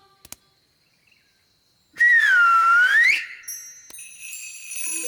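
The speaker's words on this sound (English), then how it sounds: "It can't talk, but it can make a sort of tinkly sound." A cartoon magic wand gives off a bright, tinkly whistling tone that dips and rises over about a second, then fades into high sparkling chimes, following a few faint clicks.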